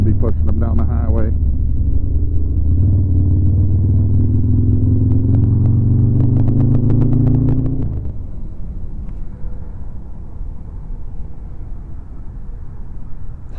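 Harley Softail motorcycle engine rumbling loud and steady while riding toward a polar ride, deep low throb with rising revs, then the tone drops abruptly to a rougher, quieter idle rumble.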